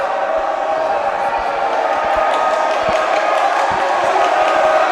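At a high school basketball game between TABC and Hillel Yeshiva, a packed gym fills with a dense, continuous crowd roar of mixed voices and shouts, holding at a loud, even level throughout.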